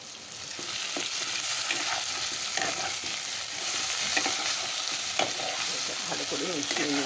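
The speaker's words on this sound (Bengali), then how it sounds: "ভালো করে মিশিয়ে নিচ্ছি এবার।" Food frying in oil in a pan is stirred and tossed, giving a loud, continuous sizzle with scraping of the spoon and occasional sharp clinks, close up and without any talking.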